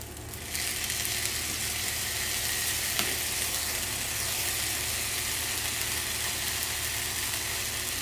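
Konjac noodles hit a hot pan of octopus stir-fry with a steady, loud sizzle that runs unbroken for several seconds, a faint low hum beneath it.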